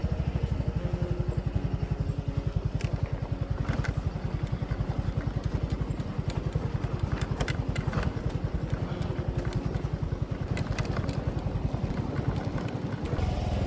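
A motorcycle rides over a rough road in Siquijor, the engine thrumming in a fast steady pulse close up, with occasional rattles and clatter from the bumpy surface.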